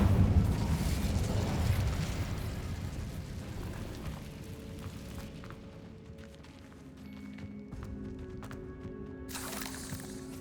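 The Incendio fire spell being cast in Hogwarts Legacy: a loud rushing, crackling burst of flame that swells at first and then fades into rumbling debris and lingering ambience, with a sharp flare near the end.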